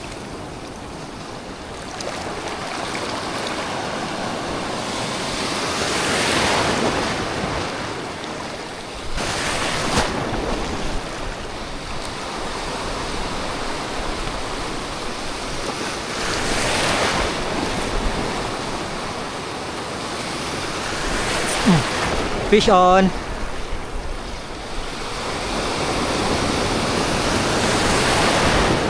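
Waves roll in and break in slow surges, a continuous roar of surf and wind, with a brief voice calling out near the end.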